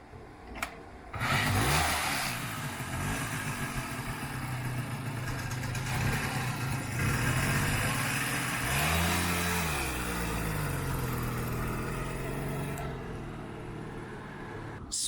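NSU Quickly 50cc single-cylinder moped from the 1960s, starting with a sudden catch and then running with a buzzy, steady putter, revving up briefly partway through before settling back to idle, close and loud.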